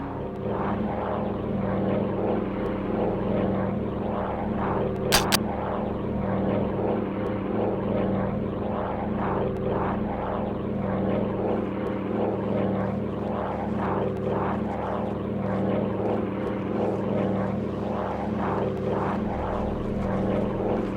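A steady droning propeller aircraft engine in the video game Air Conflicts hums continuously at an even pitch, loud and constant throughout.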